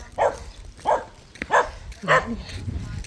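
Several sharp dog barks, roughly evenly spaced, ring out over a low outdoor background; they sound moderately close.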